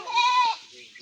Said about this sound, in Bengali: এদিকে ছাগল আছে।